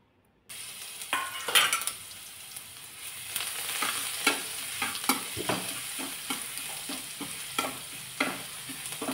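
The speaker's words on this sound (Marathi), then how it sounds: "तेल तापलं की त्यामध्ये जिरे घातले, ठेचून घेतलेला लसूण" Cumin seeds and crushed garlic fry in hot oil in a pan, giving a continuous sizzle broken by repeated scraping and stirring strikes of a utensil against the metal, close and fairly loud, with no talking.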